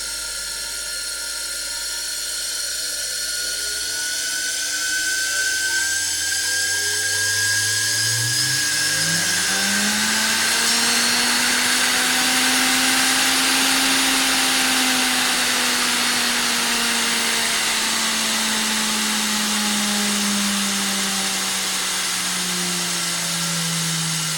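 A washing machine motor driven through a speed regulator, its whine rising steadily in pitch as it spins up, then holding a loud, steady high-speed hum alone for the rest of the time.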